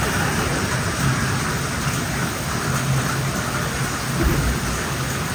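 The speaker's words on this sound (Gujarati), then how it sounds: "અત્યારે આટલો વરસાદ પડી રહ્યો છે ભાઈ ધોધમાર" Heavy rain pours down in a dense, steady roar, with low rumbles of thunder beneath it and no talking.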